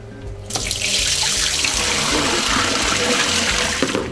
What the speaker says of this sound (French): Donc on va prendre l'eau pour mettre dans la machine.